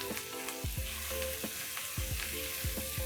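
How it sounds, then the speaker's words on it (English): Crushed garlic and ginger fry with onions in a pan, a continuous soft sizzle broken by repeated scraping strokes of a stirring spoon, close and moderately quiet. "I'm going to add my crushed garlic and ginger"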